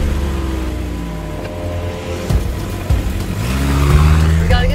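Car engine running and revving under acceleration on a quick drive, steady loud rumble with shifting tones and a few thumps, voices faintly mixed in.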